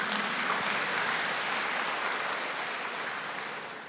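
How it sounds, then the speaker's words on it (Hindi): Audience clapping at a spiritual gathering: a dense, steady wash of applause that fills the whole moment and eases off slightly toward the end. "मैं आपके लिए ताली बजाती हूँ।"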